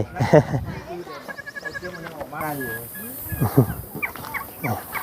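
Chickens clucking and calling on a rural Thai farm, with several short fowl calls that come and go while someone talks steadily over them.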